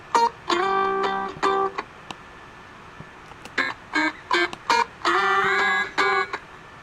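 Synth tones run through a delay plugin whose LFO modulates pitch, heard as a sequence of bright harmonic notes with short rests between them and a slight wavering in pitch, with no voice over them.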